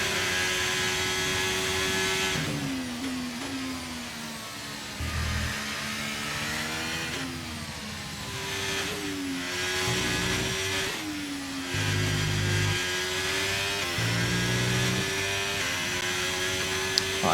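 A Formula 1 car engine from the F1 23 racing game at Silverstone holds a high, whining tone, its pitch dipping and climbing through repeated gear changes and throttle lifts, loud and steady with no talking.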